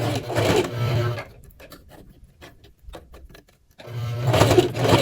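A sewing machine runs in two loud bursts of rapid stitching along the edge of a V-neck women's dress shirt, separated by a quieter pause with light ticking handling sounds.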